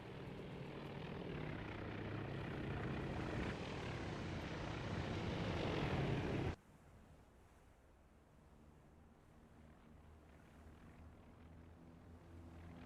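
Aircraft landing in the naval combat game Task Force Admiral: a loud, steady engine roar for about six seconds that cuts off abruptly, leaving a quieter low rumble behind.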